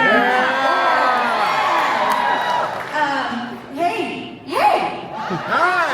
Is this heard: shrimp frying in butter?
no